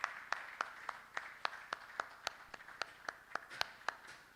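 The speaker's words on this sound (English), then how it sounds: "Ladies and gentlemen, please give him a round of applause." An audience at a science academy conference ceremony applauds, heard as a sparse run of distinct claps spaced fairly evenly, moderately quiet and slightly distant, with no talking.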